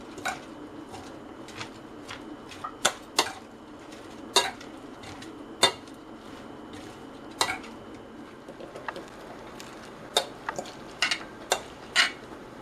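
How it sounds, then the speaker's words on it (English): Cabbage salad being mixed with lime juice: a utensil clinks and taps against the bowl in irregular bright strikes, separated by soft stirring and scraping, close up and fairly quiet. "Mix everything together."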